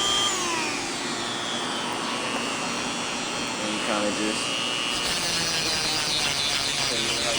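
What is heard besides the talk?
small power sander distressing denim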